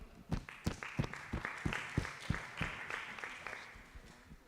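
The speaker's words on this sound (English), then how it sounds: "So an applause for Lighthouse Feed" Scattered applause from a small pitch competition audience welcoming a startup team, individual claps picked out sharply and unevenly at first, then thinning into a few lighter claps as it fades.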